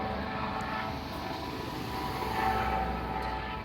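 A UT Lifestar medical helicopter passes overhead near a river railroad, its engine a steady, broad droning roar that swells slightly midway with no talking.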